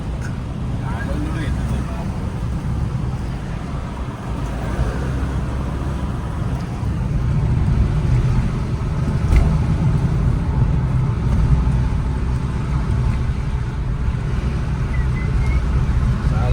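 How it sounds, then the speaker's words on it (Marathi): Road traffic with many cars queued at an entrance on the way to Trimbakeshwar keeps up a steady engine rumble, while people talk over it throughout. "किती गाड्या लागल्यास."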